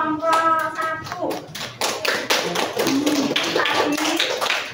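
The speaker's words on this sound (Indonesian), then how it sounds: "tepuk tangan untuk kelompok 1" Classroom of students applauding a discussion group in a social studies lesson, a burst of close, loud hand taps and clapping mixed with children's voices talking throughout.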